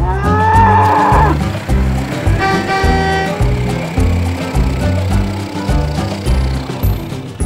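Several cattle mooing as they are herded down to a barn, with long, loud, overlapping calls that keep sounding one after another, close by and filling the whole stretch, with a faint vehicle hum underneath.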